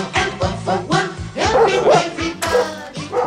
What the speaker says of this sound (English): No, these are racing dogs.